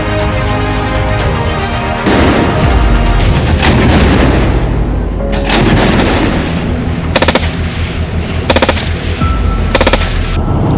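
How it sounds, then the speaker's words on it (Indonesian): Heavy explosive booms from 81 mm mortar rounds mix with bursts of rapid machine gun fire, loud and close, repeating in short volleys, at an army combat training range. "YTPR 301 PKS memberikan tembakan pendahuluan menggunakan mortir 81"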